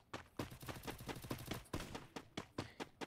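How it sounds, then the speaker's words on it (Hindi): Rapid bursts of gunfire from the Free Fire battle-royale video game, a string of sharp cracking shots in irregular clusters, close and loud with no talk over them. "इधर एक बंदा फायर कर रहा है"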